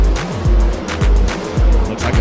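Race cars pass in lap traffic on a racetrack, loud engines surging in quick repeated sweeps about every half second.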